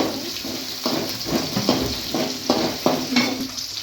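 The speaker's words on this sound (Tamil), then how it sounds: "வெங்காயம் நல்லா பொன்னிறமாக வதங்குற வரைக்கும் நல்லா வதக்கி வச்சுக்கலாம்." Onions sautéing in hot oil with mustard seeds for roasted vermicelli upma, a steady sizzle broken by repeated scraping stirs of a spatula in the pan, close and fairly loud with no talk.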